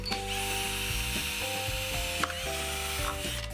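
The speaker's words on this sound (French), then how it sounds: "Essayez de percer au milieu," A drill works a 6 mm bit through the middle of a bottle cap, giving a steady close mechanical whir with a faint ratcheting rattle and a few small clicks.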